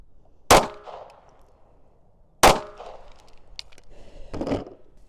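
Two sharp handgun shots from an Equalizer pistol loaded with 115-grain rounds, about two seconds apart, each cracking loudly and ringing briefly, followed by fainter clicks and a short rustle.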